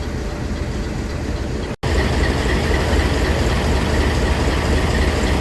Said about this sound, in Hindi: और अभी सबक खराम रावलपिंडी से आ रही है और यहाँ से वो क्रॉसिंग करेगी।